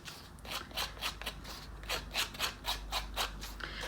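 Scrapbook pattern paper with a white core has its edge distressed by scraping with a blade, making repeated short, crisp rasping strokes in a steady rhythm, close and fairly loud, with no talk.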